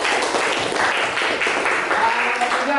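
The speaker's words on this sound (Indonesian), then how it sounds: "Bagus, tepuk tangan" A classroom of students applauding, dense continuous clapping at close range that stays even and loud throughout, with faint voices mixed in.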